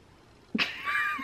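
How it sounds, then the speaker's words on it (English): A kitten perched on a person's shoulder gives one short, close meow partway through, with a rising cry that trails off, and a quiet room around it. "There's a kitten on my shoulder."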